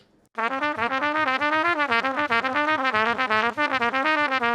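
Jazz trumpet runs the second of Clark's Technical Studies in a major key, a fast continuous stream of articulated notes rising and falling in a repeating pattern, close, loud and unaccompanied.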